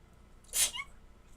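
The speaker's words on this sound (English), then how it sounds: "Oh, I need to sneeze." A single short, sharp sneeze, close and fairly quiet, with a brief breathy burst and nothing else around it.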